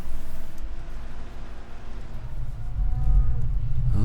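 Cattle lowing in the Farming Simulator 2015 game on a Georgia USA farm, several drawn-out moos rising over a steady low engine rumble from a vehicle, loudest toward the end.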